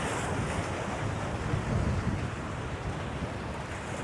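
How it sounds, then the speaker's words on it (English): Ocean water draws back off the rocks on Point Judith beach at less than high tide, a steady close rush of surf and fizzing backwash mixed with wind buffeting the microphone. "hear that sound the water makes when the tide is pulling away from those rocks on the beach there"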